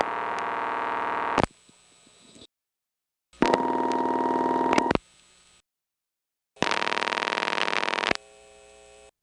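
A telephone rings on a step-by-step exchange line, three long buzzing rings separated by silent gaps, each ring followed by a faint low hum.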